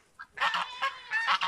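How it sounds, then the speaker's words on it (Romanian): Ducks and drakes on a farm give a short burst of loud, nasal honking quacks, several calls in quick succession at close range with no talking. "Acolo două rațe, aici o rață și doi rățoi."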